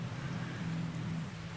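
Heavy, constant rain on a farm makes a steady, broad hiss at moderate level with a low rumble underneath, and nobody speaks.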